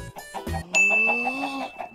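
Minecraft chickens clucking in a video game, with short tonal chirps and clucks over a sustained chime-like tone, lasting only a couple of seconds with no talk.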